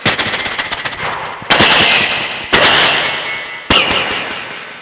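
At a stage comedy show, a comedian's voice imitates gunfire and bomb blasts: a loud, rapid rattling burst, then three heavy booming blasts, each fading out.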